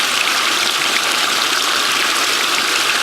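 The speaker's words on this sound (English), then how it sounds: "I need to try to figure out how to settle out some of this bubbling here" Water churns and bubbles continuously inside a ram pump, a dense, steady rushing wash with no pauses, loud and close.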